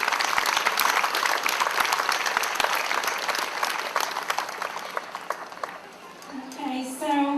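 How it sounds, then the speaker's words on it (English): Crowd applause at a July Fourth awards program in Morgantown, West Virginia, honoring storefront decorators: dense, steady clapping fills the space, then thins near the end as a voice begins speaking. "Let's give a round of applause to those who decorated this year."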